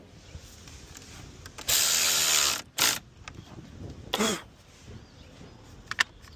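A ratchet or power driver works on a battery terminal of a 2012-2015 Honda Civic: a loud, close burst of about a second, a shorter second burst, then a brief later whirr, set against quiet handling noise.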